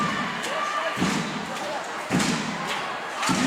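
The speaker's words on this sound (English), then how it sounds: "Chairs banging down low." Wheelchairs bang into each other during a women's wheelchair basketball game between China and Germany, giving three heavy metallic slams about a second apart over arena murmur and a commentator's voice.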